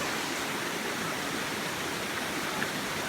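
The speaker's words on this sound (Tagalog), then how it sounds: "Andito na kami sa Sapa and the falls" A small waterfall and stream rush in a constant, broadband wash of water, close and steady, with no voices over it.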